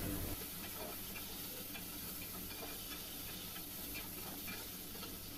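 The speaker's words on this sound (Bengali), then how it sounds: "চিংড়ি মাছগুলো একটু ভেজে" Shrimp fry in a pan over already-browned onions, giving a steady, dense sizzle with faint stirring clicks throughout, close and loud without any talk.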